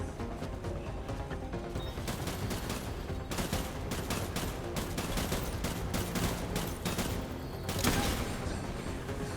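Dense gunfire rattles through a Death Stranding firefight, continuous bursts of rapid shots layered over one another, loud and sustained with several sharper volleys standing out.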